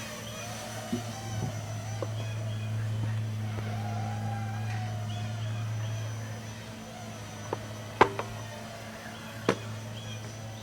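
A Blade Nano QX 2 FPV racing drone flies indoors, its tiny rotors giving a steady, whining buzz that holds for several seconds, with a few sharp knocks near the end.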